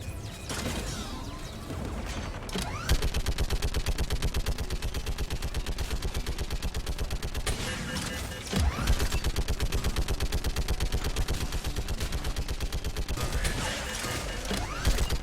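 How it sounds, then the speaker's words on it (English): Rapid automatic gunfire from a gun turret in the video game Mass Effect, a loud sustained burst of shots running almost unbroken with brief pauses and clanking mechanical sounds between volleys. "Take out that gun, Tali. I'm on it. I want the turret."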